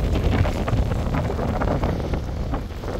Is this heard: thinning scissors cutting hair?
no